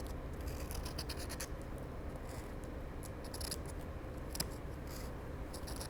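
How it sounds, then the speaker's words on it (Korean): Scissors snip through ramie (mosi) fabric in a quiet session of hand crafting, giving soft, repeated close-up cuts and rustles in irregular bursts over faint room noise. "이 모양대로 잘라 주실 겁니다"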